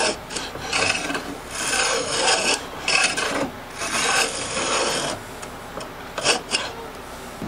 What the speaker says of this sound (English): next here we'll just take a hand planer and clean this up